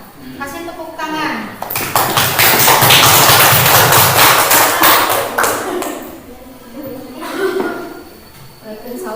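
Loud, close classroom applause as students clap for a group's presentation, a burst of clapping that swells and fades over several seconds with voices talking and a few whoops before and after.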